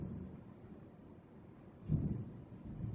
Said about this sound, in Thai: ยังไม่โกหกเลยฟ้าร้องแล้ว